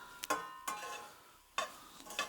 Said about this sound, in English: Sauteing some onions in ghee.